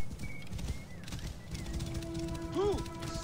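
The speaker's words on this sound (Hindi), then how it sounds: "अच्छा घोड़े पे चलो." Horse hooves clop in the video game Assassin's Creed Origins, a soft, rhythmic clip-clop of a ridden horse mixed with other game sounds and tones.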